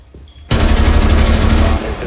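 Gunfire from a Rainbow Six Siege match: after a short quiet lead-in, a sudden loud stream of rapid automatic shots runs for over a second, dense and close, before easing slightly at the end.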